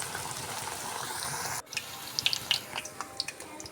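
Thin onion fritters (piyaji) are dropped by hand into hot oil, a steady hiss that cuts off sharply, then gives way to scattered sizzles, crackles and pops, close up and without talk.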